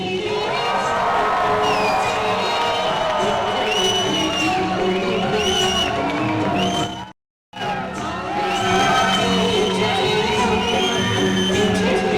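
A wedding reception crowd cheers, whoops and shouts loudly and continuously as the groom's parents are welcomed, with a brief silent gap in the middle.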